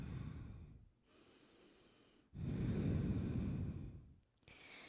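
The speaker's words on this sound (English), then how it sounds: "So just take a deep breath in, slow breath out." Deep, slow breathing during a yoga class: a long soft inhale followed by a fuller, louder exhale, close and without talk.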